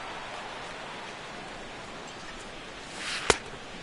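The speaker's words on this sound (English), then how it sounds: "That rain is really coming down now. That's as hard as it's been all afternoon." Steady rain falling during an MLB The Show 16 baseball game, a soft, even hiss with one sharp click near the end.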